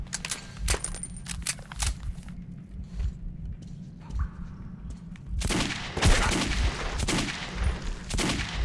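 Pistol shots in the post-apocalyptic shooter Metro 2033, several sharp loud cracks scattered across the clip and clustering toward the end, over a low rumbling game ambience.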